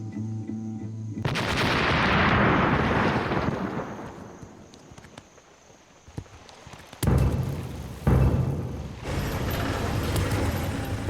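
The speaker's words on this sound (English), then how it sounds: "Controlled explosion ready." A controlled explosive charge destroys a landmine in post-civil-war Cambodia, going off in a deep, loud boom that rolls and decays over several seconds, followed by further heavy thuds and rumbling blasts.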